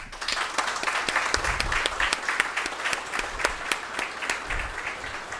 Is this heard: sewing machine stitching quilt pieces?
no